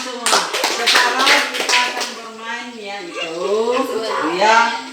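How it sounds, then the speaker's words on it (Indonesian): Students in a junior high school religious-education classroom in Muara Wahau clap together in a brisk burst of many hands lasting about two seconds, then a voice talks. "Ya, tepuk tangan semua."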